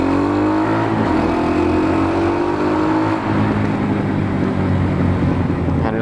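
A Derbi Senda Citycross 125cc motorbike engine revs steadily and loudly for the whole stretch. Its pitch rises, then settles into a sustained drone close by, with no talk over it.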